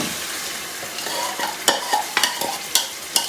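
Spice-marinated chicken for achaar gosht goes into a hot pan and fries with a steady sizzle, punctuated by several sharp clacks and scrapes from a spoon stirring it, with no talking.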